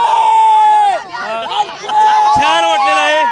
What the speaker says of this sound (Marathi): रिंकूला पाहण्यासाठी भरपूर गर्दी झालेली आहे